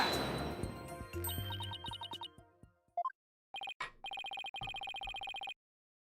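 A cell phone rings in the Apollo Justice video game, a clear repeating electronic ringtone that comes in steady pulsed bursts in the second half, following a few chimes of game music, with no one talking.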